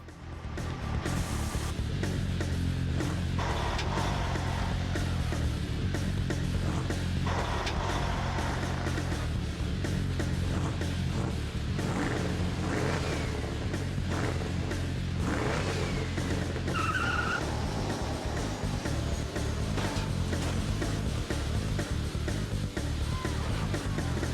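A car in Destruction Derby 2 drives with a steady engine drone that stays loud throughout, with tires skidding and occasional sharp crunches and squeals rising above the constant roar.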